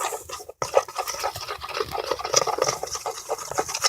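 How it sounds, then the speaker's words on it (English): A mixture is stirred in a container, giving a quiet, continuous wet swishing and scraping with small clicks of the utensil against the sides, alone. "Aries is going to stir that for me. And I'm going to stir it down."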